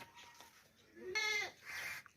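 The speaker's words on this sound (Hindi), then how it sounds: "अच्छी हाइट में ज़बरदस्त जवान बकरी है, मोटी ताज़ी बकरी है।" A young, plump Gabbani goat gives a short, wavering bleat at close range, with a second fainter call after it against quiet background.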